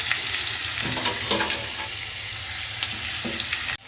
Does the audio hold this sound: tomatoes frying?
yes